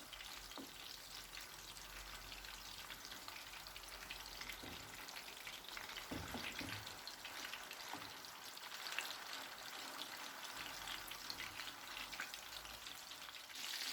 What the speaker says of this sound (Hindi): मीडियम फ्लेम पर कबाब को फ्राई करेंगे, साइड चेंज कर लेंगे।